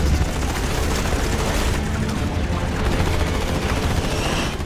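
A fighter jet's cannon firing during an F-14 versus Su-57 dogfight in a Top Gun: Maverick movie scene, a loud, continuous rapid roar of gunfire blended with engine rumble, sustained throughout.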